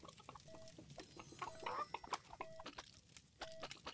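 Quiet, repeated chicken clucks sound in the video game Witch It as short bursts among clicks and other game noises, faint and irregular in rhythm.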